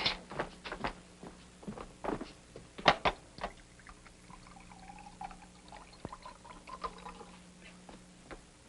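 Water pours into a glass in a 1950s sitcom scene, a brief splashing trickle with a few soft footsteps and clinks around it, fairly close and quiet, with no talk.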